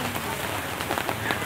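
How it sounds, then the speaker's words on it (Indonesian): Rain falls steadily at a traditional village market in Indonesia, a close, continuous patter of drops striking surfaces, with faint voices beneath. "Ada kena hujan kita"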